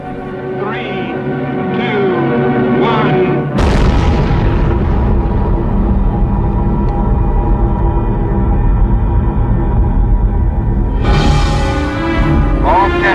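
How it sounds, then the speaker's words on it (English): Archival recording of the Mike test, the first US thermonuclear bomb explosion, on an atoll in the Marshall Islands: a sudden, loud, sustained roaring boom that rumbles on for several seconds, with a second surge near the end. "the United States detonated its first super bomb, a thermonuclear device with a human name, Mike"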